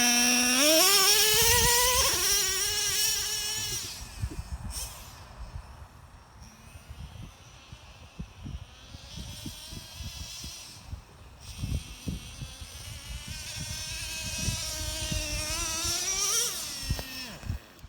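Traxxas Revo nitro RC truck engine nearing the end of its first tank, a high buzzing whine that rises and falls as it revs, fading lower through the middle before surging again near the end.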